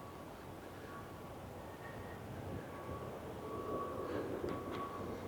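Disneyland monorail gliding along its elevated track on a busy day, a steady low rumble and whir with faint whining tones, moderately distant and fairly quiet throughout.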